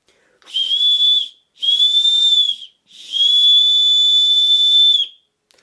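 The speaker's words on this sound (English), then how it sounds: "small whistle made out of an aluminum can, and let me see if I can get it to work." A small compact whistle made from an aluminum can is blown three times: two short shrill blasts, then a longer sustained one, loud and close with silence between.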